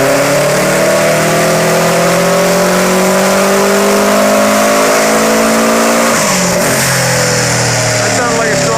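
A tuned 2006 Subaru WRX STI engine revving hard on a dyno run, loud and close, its pitch climbing steadily through the pull before dropping off near the end.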